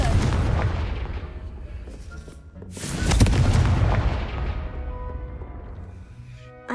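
Explosive Confringo spell in the Hogwarts Legacy video game, two heavy booming blasts a few seconds apart, each with a sharp crack and long rumbling decay, loud and without talk.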